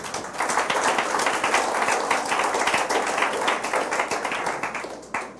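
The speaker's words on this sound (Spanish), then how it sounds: "Un aplauso," A church congregation bursts into sustained applause, dense clapping filling the room steadily for several seconds before tapering slightly at the end, with no speech over it.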